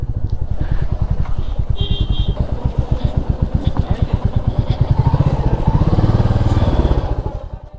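A motorcycle engine chugs loudly and close throughout, its firing pulses regular while the bike rolls at low speed toward a parking spot at a temple site in Bishnupur. Faint voices may sit beneath it.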